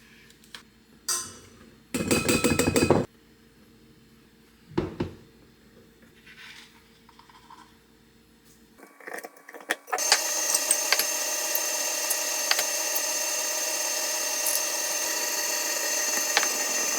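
An electric pasta press churns homemade pasta dough in a steady, continuous mechanical whir, preceded by a few short clinks and bursts of motor noise.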